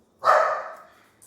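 A single dog bark sounds once, loud and fairly close, in an otherwise quiet room, trailing off quickly.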